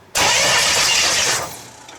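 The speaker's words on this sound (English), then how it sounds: "Carl's going to spin the motor over." An engine being cranked over during a compression test in a Chevrolet S10 turbo engine build: a sudden loud, steady whirring roar lasting just over a second, then fading away.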